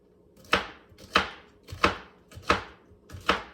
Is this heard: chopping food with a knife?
yes